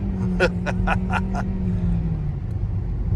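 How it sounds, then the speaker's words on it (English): A 2022 Kia accelerating hard on bald tires, with a low engine drone that falls in pitch, while a quick run of five sharp, squealing chirps rises above it early on, then fades into road rumble. "Of course, I'm spinning the bald tires."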